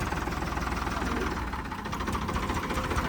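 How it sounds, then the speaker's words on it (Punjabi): A modified Ford 3600 diesel tractor engine runs close by, a steady, rhythmic chugging rumble at constant idle. "ਆਵਾਜ਼ ਚੈੱਕ ਕਰੋ ਟਰੈਕਟਰ ਦੀ ਐਨ ਵਧੀਆ ਹੈ"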